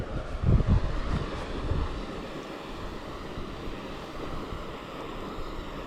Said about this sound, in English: That wind picked up.